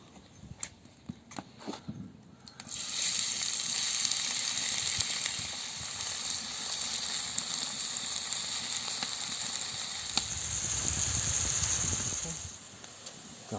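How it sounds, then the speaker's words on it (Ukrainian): After a few light clicks, a loud, steady sizzle starts as onion fries in hot oil in a pan, hissing continuously. "Наливаємо олію на сковорідку і зараз будемо пасірувати цибульку."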